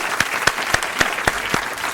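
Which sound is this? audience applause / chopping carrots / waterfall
audience applause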